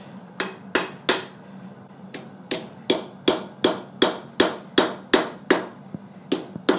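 Hammer blows ring out on steel at an anvil while a chisel is straightened at a blacksmith's forge, about fifteen sharp, bright strikes in a fairly steady rhythm with brief pauses, loud and close, with no talking.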